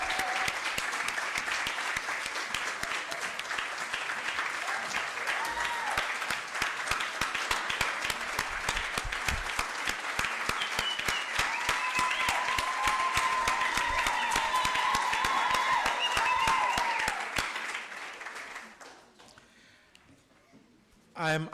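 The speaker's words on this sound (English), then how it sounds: "Let us give her a round of applause for having started this wonderful project." Audience applause for the founder of a project at a summer school anniversary event: steady, dense clapping from a large crowd that holds for about seventeen seconds, then fades out quickly, with a short burst at the very end.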